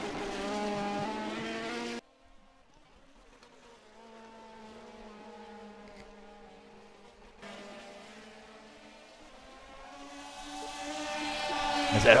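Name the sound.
race cars battling for position on track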